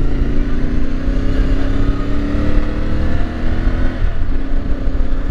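A CFMOTO 450MT adventure-touring motorcycle is ridden on an intercity road, its engine a steady, loud drone mixed with rushing wind noise, holding a constant pace with slight pitch changes.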